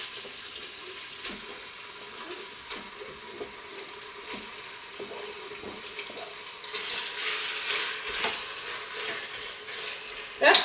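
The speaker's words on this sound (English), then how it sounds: "And now I'm just going to brown my meat." Lamb browns in olive oil in an Instant Pot on the sauté setting, making a soft, continuous sizzle with scattered small ticks and pops, then a louder, brighter hiss toward the end.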